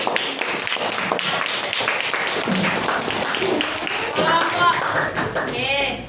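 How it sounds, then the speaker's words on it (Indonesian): Primary schoolchildren in a classroom clap for a group, steady lively clapping from many small hands with children's voices chattering underneath. "Beri tepuk tangan untuk kelompok."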